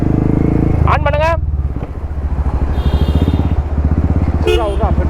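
A Royal Enfield Meteor 350 motorcycle fitted with an RRP exhaust idles with a loud, thumping, rapid beat close by, while people talk and call out over the engine.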